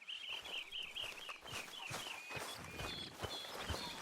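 Horse hooves walk at an unhurried pace in the Western video game Red Dead Redemption, soft regular thuds under a high whistling tone and light background sound.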